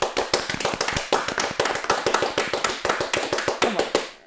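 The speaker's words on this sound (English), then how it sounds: "Applause sound effects." Dense, steady applause on its own, a quick rhythm of many sharp hand claps layered together, fairly close and loud for about four seconds before cutting off abruptly.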